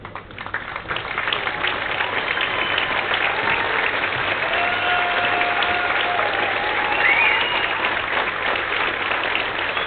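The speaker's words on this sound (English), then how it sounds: "I now ask for everyone in the audience and the platform party to please stand and give our graduates one last applause." A large audience at a college commencement stands and applauds the graduates, a dense, steady wash of clapping that swells after the first second and holds evenly, with faint voices mixed in.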